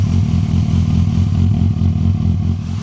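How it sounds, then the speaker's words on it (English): Motorcycle engine idling through its stock standard exhaust, a loud close rumbling idle with a steady lumpy pulse throughout and no talking. "Bike's all together running, and this is the stock standard exhaust with the stock standard wop wop."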